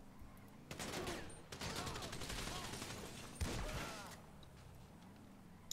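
Gunfire in GTA 5 roleplay: two loud, rapid bursts of automatic shots, the second starting with a sharp crack, with a voice briefly heard between them and a quieter lull afterward.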